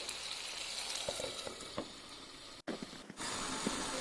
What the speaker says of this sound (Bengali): এরপরে মাছগুলো টমেটোর সাথে কিছুক্ষণ নাড়াচাড়া করার পর ঢেকে দিব।